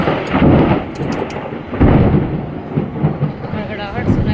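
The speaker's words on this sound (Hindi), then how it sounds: "गड़गड़ाहट सुनाई देता है बिजली की" Thunder rumbling during rain, heavy low booming rolls that swell and fade in loud bursts over steady rainfall.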